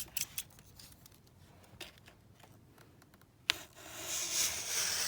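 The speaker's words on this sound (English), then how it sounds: "I'm just going to trim that off again with my knife" A craft knife trimming paper for a junk journal, with light scraping and cutting strokes, a few small clicks, then a rising rustle near the end, close and quiet.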